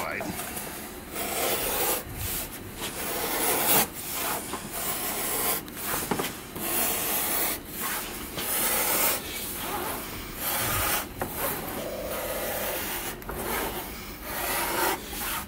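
A draw gauge slices along a leather strap with a steady, close rasping scrape that runs in long strokes and briefly pauses a few times, with a faint hiss underneath.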